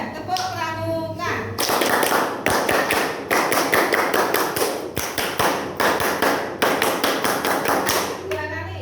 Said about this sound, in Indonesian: Yuk kita mulai 1, 2, 3. Tepuk pramuka.